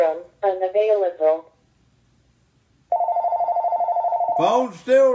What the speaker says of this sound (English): Phone's still ringing